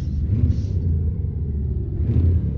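Low, steady rumble of a Scania truck engine idling or pulling away in Euro Truck Simulator 2, heard up close and even, with slight swells in the low end and no talk.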